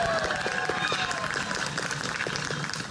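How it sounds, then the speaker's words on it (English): A magic-show audience breaks into a big round of applause after a linking-rings trick, dense clapping mixed with crowd noise and a faint tonal hum running underneath throughout. "this does get a big round of applause"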